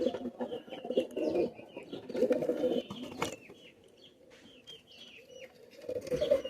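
A pair of Pakistani master-bloodline pigeons coos in separate bursts, loud then quieter, with thin chirps and a brief flutter between the rolls and no voices.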